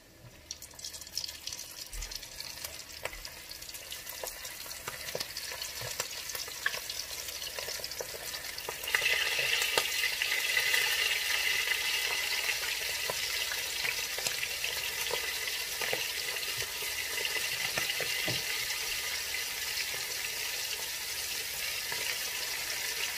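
Steady crackling sizzle of battered chicken frying in oil, growing louder and denser partway through, with no one talking.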